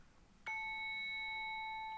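A singing bowl chime from a meditation timer app strikes once, then rings out with a clear, sustained metallic tone of several steady overtones that holds evenly and quietly without fading, no voices present.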